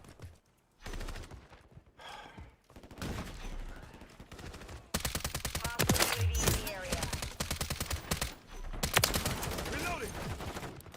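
Video game gunfire rattles in rapid automatic bursts and single cracks, close and fairly loud, with game voices and other sounds mixed in between the volleys.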